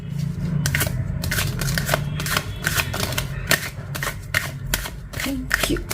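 Tarot cards are shuffled by hand close up in a quick series of crisp riffling bursts and snaps, with faint background sound between them.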